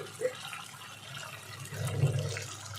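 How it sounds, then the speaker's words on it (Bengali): Water pours into a cooking pan of green banana curry, a brief splash and steady liquid rush heard close up over a quiet kitchen background. "এবার আমি দিয়ে দেব জল"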